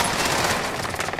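A short burst of rapid automatic gunfire in the Call of Duty Rebirth Island video game, dense and continuous, moderately loud and close, with no talking.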